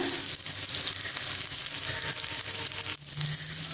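Curry ingredients sautéing in a hot pan, a dense, steady sizzle and crackle throughout, close and loud, with a brief stir near the end.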